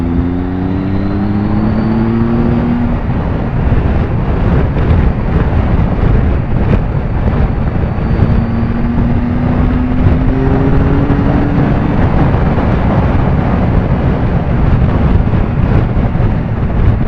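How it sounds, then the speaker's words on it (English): Heavy, roaring wind buffeting the helmet while riding a 2018 Triumph Tiger 1200XCA motorcycle, a steady loud rush with the engine note rising and falling underneath. "You can certainly tell that the wind's hitting the top of your lid. You're getting a lot more draft in there,"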